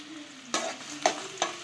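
Chopped onions fry in a pan with a soft, steady sizzle, broken by three scraping stirs of a spoon, each a short crisp burst.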